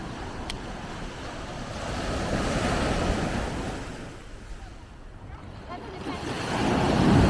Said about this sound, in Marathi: आपला समुद्र बघा, आपला किती भारी आहे समुद्र